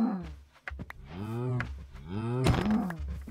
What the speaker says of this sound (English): Some cows over here.